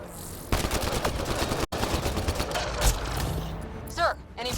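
Rapid gunfire in the sci-fi shooter Mass Effect Andromeda, a dense burst of shots with thumping impacts, loud and close, mixed with game effects and a brief sharp cutoff partway through.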